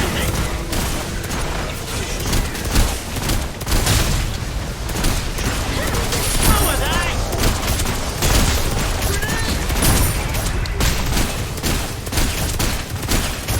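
Gunfire from the Paragon video game: dense, loud, continuous bursts of shots and impacts layered with game effects and some background voices throughout.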